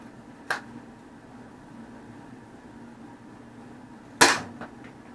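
An X-Dart foam dart blaster fires during an accuracy test, one soft pop early and a sharper, louder crack near the end, close by against a quiet background with no talk.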